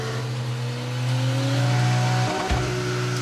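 Car engine running with a steady low hum that rises in pitch as it revs up, then a brief shift or dip before the tone resumes, close and loud with no talking.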